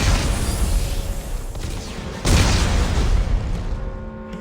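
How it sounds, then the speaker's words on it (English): A detonation of armed explosives in Dead Space 3, a loud booming burst that swells suddenly partway through over a dense rumbling game soundscape, with no talking. "Computer, arm explosives."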